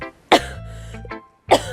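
Two bursts of coughing from someone with a cold, close and fairly loud, separated by a short pause with a low hum underneath.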